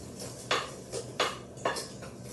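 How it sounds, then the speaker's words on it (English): Whisking ingredients with salt in a bowl: three brisk scraping strokes against the bowl at a steady pace, fairly close, with no voices. "just give it a little whisk, just so everything is incorporated"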